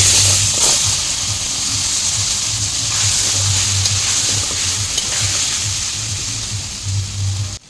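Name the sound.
pointed gourd frying in oil with turmeric and salt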